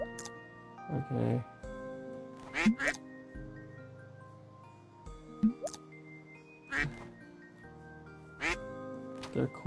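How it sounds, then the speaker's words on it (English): Ducks quack repeatedly in short bursts near someone feeding them bread at a pond, the calls scattered across the scene over quiet background noise. "They're quacking at me."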